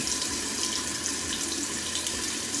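Water runs steadily from a bathroom tap into a sink, a constant hissing splash with no pauses, fairly quiet and close, with no voices.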